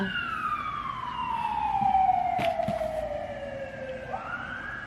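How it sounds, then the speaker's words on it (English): A siren wails with a long descending sweep over steady New York City street noise, with traffic rumble and a brief sharp clatter midway. "Can you hear the ambiance of New York City?"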